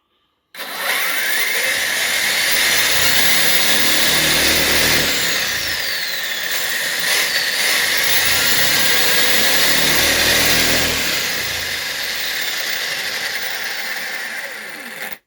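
A small RC car's motor whines loudly and continuously as it accelerates hard during a comparison of strapped and non-strapped tyres, a high buzzing roar that holds for about fifteen seconds and rises and falls slightly.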